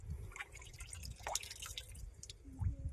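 Natural spring water pouring and dripping at the Seethe Kallina Betta hillside. Soft, close drips and a light trickle patter over a low watery rumble in a short burst.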